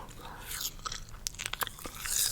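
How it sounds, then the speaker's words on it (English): Close-mic eating ASMR: wet chewing and crisp biting right at the microphone, a run of short crunchy bites and mouth sounds over a couple of seconds, no talking. "this is eating ASMR"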